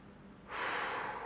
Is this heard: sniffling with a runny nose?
yes